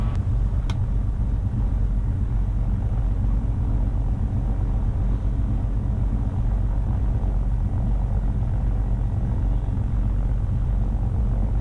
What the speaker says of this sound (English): He's taking off, and now we're going to take off right behind him, bud.